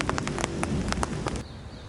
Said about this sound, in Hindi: इस वक्त भी बादल गरज रहे हैं और बूंदाबांदी हो रही है